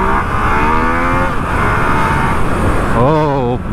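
A 2020 Yamaha MT-09 motorcycle accelerates hard, its engine rising in pitch through the revs, dipping at a shift, then climbing again. Loud and continuous, with wind rush and a rider talking over it.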